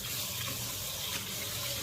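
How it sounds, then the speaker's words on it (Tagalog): Water runs steadily into a pot or basin as raw rice is rinsed in a home kitchen, a continuous close splashing and trickling hiss with no talking. "maghuhugas tayo ng bigas"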